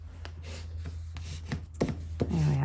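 Folded cardstock being creased along a score line for cardmaking, with several soft scraping rubs and light taps at an uneven pace, close and quiet over a low steady hum.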